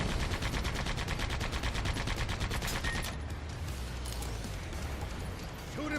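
Rapid gunfire rattles in Sand Land, a dense stream of sharp shots for about three seconds, then a rougher, quieter stretch of continued firing and mechanical clatter. The shots are loud and close, with no voices over them.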